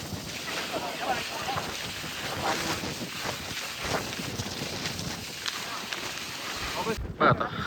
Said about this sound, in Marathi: जबरदस्त हवा सुटली ना आता. माझा आवाज पण तुम्हाला येत नसेल.